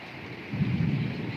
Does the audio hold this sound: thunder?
yes